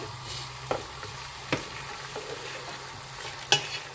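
Chicken is stirred in a pan with faint sizzling and a few soft scraping clinks at irregular intervals, quiet and close, with no voices.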